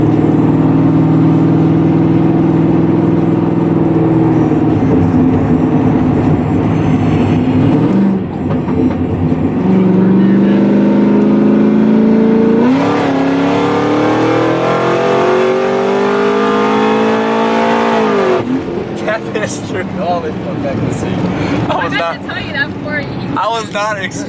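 A Cadillac CTS-V V8 with headers, an X-pipe and straight pipes revs loudly and repeatedly in a parking area by shops, the engine note rising and falling through long sustained pulls, close and dominant throughout.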